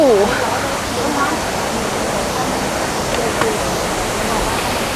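Phlio waterfall, a tall cascade, roars as a dense steady rush of falling water close by, with a voice speaking briefly over it.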